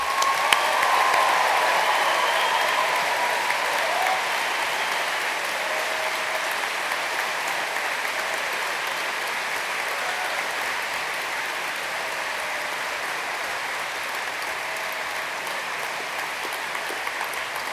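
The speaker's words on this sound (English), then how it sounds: "please join us in giving all recipients of awards and prizes a final round of applause" Sustained applause for award and prize recipients at a 2015 university graduation ceremony, a broad, even roar of many hands in a large hall that swells briefly at first then settles into a long, steady clapping.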